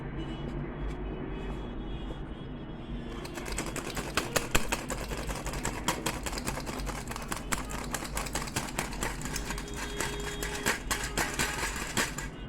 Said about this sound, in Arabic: هبدأ بقى احط الدقيق وانخله